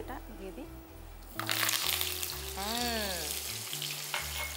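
Curry leaves and boiled potatoes hit a hot pan and burst into a loud, hissing sizzle that carries on steadily, following a short spoken line, with background music throughout.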